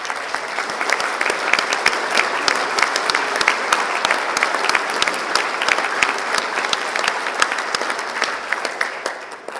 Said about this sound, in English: please stand for a much-deserved round of applause